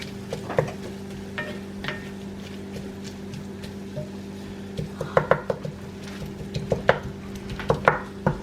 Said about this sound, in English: I'm doing this to break all the chunks so so we don't have big chunks of meat